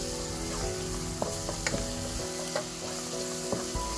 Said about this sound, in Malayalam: എന്നിട്ട് നന്നായിട്ട് മിക്സ് ചെയ്ത് കൊടുത്തിട്ട് ചെറിയൊരു കളറ് മാറുന്നത് വരെ അത് വഴറ്റി കൊടുക്കണം.